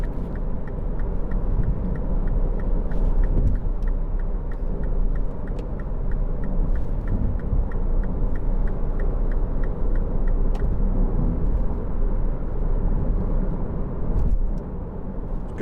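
Cabin sound of a 2009 MINI Clubman 1.6 Cooper five-door driving on a road: a steady low engine and tyre rumble with a faint regular ticking, quiet and even throughout with no speech.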